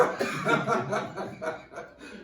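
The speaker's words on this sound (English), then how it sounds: "Cough it out. Cough it out." A run of harsh, throaty coughs comes in quick bursts close by, loud at first and tapering off.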